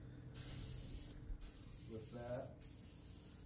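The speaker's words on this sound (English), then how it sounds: "we're gonna go ahead and do some Loctite, rust converter, neutralizer, whatever you want to call it. We're gonna spray the crap out of it" Loctite rust converter is sprayed onto a rusted truck bed in a few close, hissing aerosol bursts separated by short pauses, while someone talks quietly.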